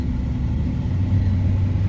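Interior rumble of a car driving on a short ride home, a steady low engine and road drone throughout with no voices.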